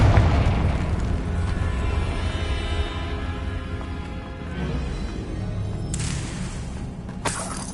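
Blasting spell explosions in a Harry Potter video game, heard as a continuous rumbling boom and crackle with sharp bursts toward the end, loud and close with no voices.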